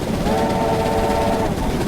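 Steam whistle of a USATC S160 locomotive in Train Simulator 2016 on the Riviera Line, a loud, steady multi-tone blast held for about a second and a half over the locomotive's rumble.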